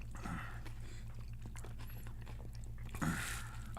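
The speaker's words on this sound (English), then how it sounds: "Are you still chewing?" Close, moist chewing of a Carolina Reaper chili pepper, with soft crunching bites running steadily through the stretch and a louder bite near the end, no speech over it.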